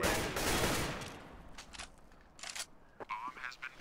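Burst of AK rifle fire in a first-person shooter video game, a dense loud volley at the start followed by a few scattered shots and game effects, with players talking over it.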